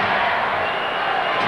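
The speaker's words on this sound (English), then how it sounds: "Crowd hollering out defense" A basketball arena crowd roars steadily at an NBA game between the Detroit Pistons and Chicago Bulls, a dense continuous crowd noise with no clear break.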